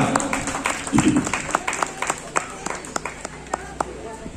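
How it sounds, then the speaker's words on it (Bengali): A crowd at a committee felicitation for senior members claps in scattered, uneven bursts, individual claps standing out over a murmur of voices. "বাদল লাগে জোরে হাততালি একটা"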